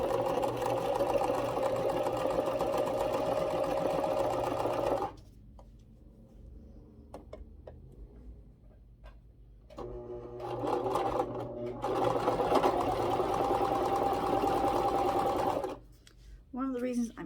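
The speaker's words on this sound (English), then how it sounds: "One of the reasons I'm using this sewing machine a lot right now" Sewing machine stitching fabric for a pet Christmas stocking, a steady close whirring run that stops, then quiet fabric handling and soft ticks, then the stitching resumes in bursts.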